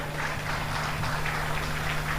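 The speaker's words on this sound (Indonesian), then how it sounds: "Kita berikan tepuk tangannya begitu luar biasa" A crowd claps steadily and evenly throughout, dense and sustained, at a formal ceremony where participant badges are symbolically presented to officials at a provincial retreat, with a low steady hum underneath.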